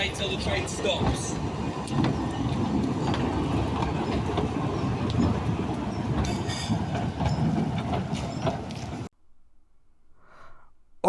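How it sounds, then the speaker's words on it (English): A train pulls into a heritage railway station with a steady rumble of wheels and rolling stock close by, with voices faintly mixed in, before it cuts abruptly to near silence. "Please wait till the train stops."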